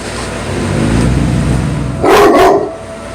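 A dog barks twice in quick succession, sharp and loud, rising above a steady background hum of room noise.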